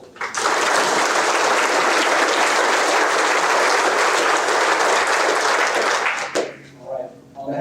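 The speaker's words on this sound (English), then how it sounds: "Please round of applause for the support." Audience at a military undergraduate pilot training graduation ceremony applauding the support medical group, a loud sustained round of clapping that ends abruptly near the close, followed by brief faint sounds.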